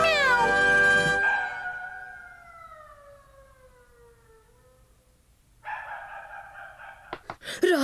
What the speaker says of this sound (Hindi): केनिची बन गया बिल्ली।